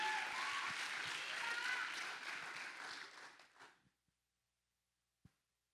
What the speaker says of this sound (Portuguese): A salva de palmas para a Alice.